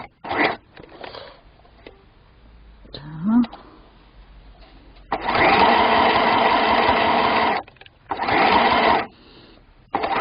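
A Singer mini sewing machine stitches doll hanbok fabric slowly along a 0.5 mm seam allowance: two loud, sustained whirring runs of the needle, separated by quieter fabric handling and small clicks.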